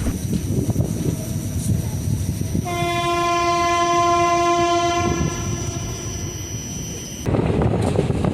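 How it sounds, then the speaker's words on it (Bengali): The Ranikhet Express runs at speed with a steady rumble and rail clatter, and a long loud horn blast sounds for about four seconds in the middle. "ট্রেন কিন্তু দ্রুত গতির সাথে এগিয়ে চলেছে।"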